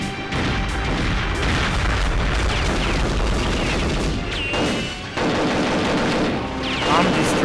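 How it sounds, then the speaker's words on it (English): Dense, continuous gunfire and explosive booms from a Perfect Dark 64 multiplayer free-for-all match in the Temple level, rapid shots overlapping without a break, loud and close throughout. "It's like non-stop shooting."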